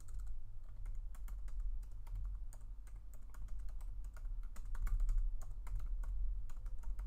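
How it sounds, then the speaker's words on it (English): Quick, light clicking of keys on a computer keyboard, typed in uneven bursts against a low steady hum, fairly faint and close, with no one speaking. "I'm going to type that."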